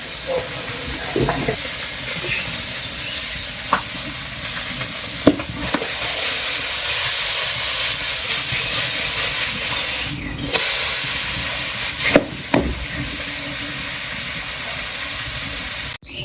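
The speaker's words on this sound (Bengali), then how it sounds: "পুঁটি মাছ ভাজা শেষ" Small puti fish frying in hot oil in a village home kitchen give a steady, loud hiss and sizzle throughout, broken by a few brief clinks and stirring knocks, with no talk.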